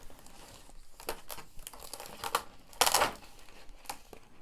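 Glow heat-transfer vinyl sheet being handled and trimmed at close range, with irregular crinkling and crackling bursts and one louder rustle midway, no voices.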